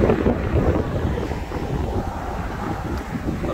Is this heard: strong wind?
yes